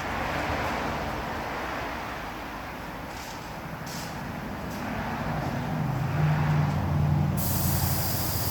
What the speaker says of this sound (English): I'll let a little air out of this tire over here.